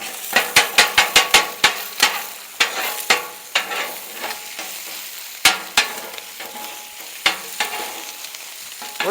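Shrimp and other food sizzling on a hot flat-top griddle while a metal spatula scrapes and taps across the surface in a quick run of sharp clanks, then slower, spaced strokes over steady frying hiss.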